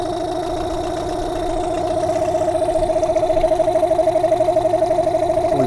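A dinghy's outboard engine idles with a steady, close humming drone that develops a faint rapid pulsing as it runs.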